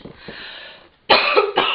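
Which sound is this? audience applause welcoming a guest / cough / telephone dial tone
cough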